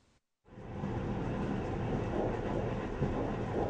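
A train pulls into a newly renovated village railway station with a sustained rumbling roar of wheels and carriages that rises quickly after a brief silence and stays loud and steady.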